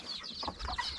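Farm chickens on a Slovenian homestead in winter give soft, close clucks in a short, busy murmur, with no voices.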